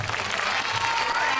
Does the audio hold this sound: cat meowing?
no